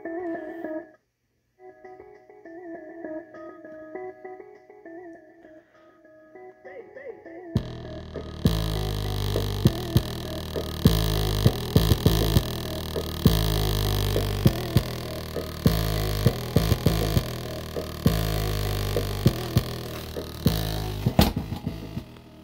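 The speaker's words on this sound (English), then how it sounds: "So we'll go ahead and do a bass test." A 5-inch, 200-watt subwoofer mounted on a moped scooter plays a bass test: a deep, throbbing pulse repeats steadily after a quiet humming start, with buzzing rattles from loose parts over the booming low notes.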